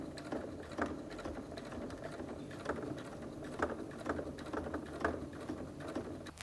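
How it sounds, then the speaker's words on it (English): A domestic sewing machine stitches a wash bag panel at a quarter-inch seam, a quiet, steady rapid needle chatter with a soft rhythmic ticking, close by and alone. "sew with your sewing machine, using your 1/4 inch seam allowance"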